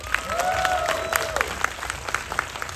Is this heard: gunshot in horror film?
no